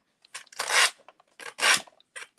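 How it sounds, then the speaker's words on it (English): Sandpaper rasps along the edges of a paper craft piece from the back, in about five short, close strokes dragged in one direction, with quiet pauses between them. "make sure you're pulling, sanding from the back,"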